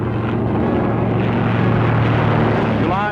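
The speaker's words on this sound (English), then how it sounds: "into the air goes the first airmail plane to complete a scheduled flight" Early airmail propeller plane taking off, a loud, continuous engine drone building slightly as it goes, with a brief rising tone near the end.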